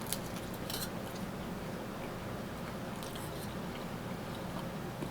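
Someone chews a chunk of beef from Turkish lahmacun close to the mic, with a few crisp bites and soft repeated crunching over a steady background hiss, no talking.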